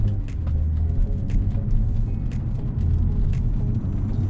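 Low engine rumble from inside a BMW as cruise control resumes and it picks up speed at a leisurely rate, steady and even, with occasional faint clicks and rattles.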